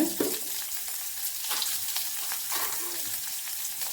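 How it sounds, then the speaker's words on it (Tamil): Mustard seeds and urad dal crackle and sizzle in hot oil as a tempering for sambar, a steady dense frying hiss that runs throughout the clip with a few louder pops. "கடுகு பொறிஞ்சிருச்சு கொஞ்சம் உளுந்தம் பருப்பு போட்டுக்கலாம்"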